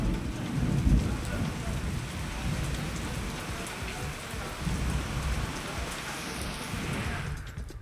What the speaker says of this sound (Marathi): बुलढाणा शहरामध्ये सुद्धा अवकाळी पावसानं हजेरी लावली.